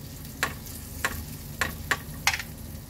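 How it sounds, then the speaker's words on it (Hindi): Garlic sautéing in a pan with paneer and cabbage cooking nearby: a soft steady sizzle broken by five sharp scrapes of a stirring spoon at uneven intervals. "और इसमें हम डाल देंगे थोड़ा सा गार्लिक और इसे थोड़ा सा सोते कर लेंगे इसी में।"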